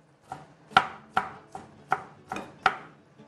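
A knife chops through food on a board with six distinct, sharp chops at a slow, fairly even pace. They are close and crisp against a quiet background, with no talking.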